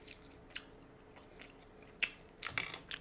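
Someone bites into a fast-food fry topped with cheese and chews it from a Popeyes meal, making faint, close crunches and soft chewing clicks in a few irregular bursts near the end of the clip.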